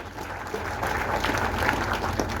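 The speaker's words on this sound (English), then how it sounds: "Let us appreciate the family with a round of applause kindly" A crowd at a memorial tribute gathering applauds the family, a steady broad patter of clapping that holds evenly for a few seconds with no speech over it.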